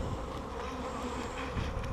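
Dense, continuous buzzing of many honey bees around a hive fills the air at close range, a steady droning hum without voices.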